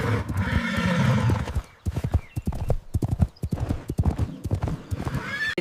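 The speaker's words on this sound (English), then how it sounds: "It's a horse." A horse whinnies loudly at close range, then a rhythmic run of hoof clip-clops follows, with a few quick neigh-like bursts mixed in.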